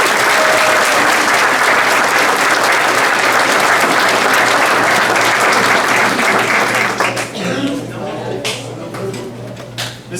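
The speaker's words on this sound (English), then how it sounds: "Let's give him a round of applause." Loud sustained applause from an audience at a high school football awards ceremony, dense steady clapping that thins and fades near the end with a few scattered claps.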